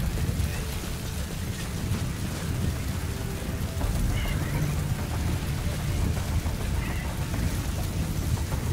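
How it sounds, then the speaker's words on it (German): Heavy rain in a Metal Gear Solid V storm forms a dense, constant hiss, with low rumbling thunder rolling underneath. Speech is faintly present. "Jetzt, wo hier der Sturm ist"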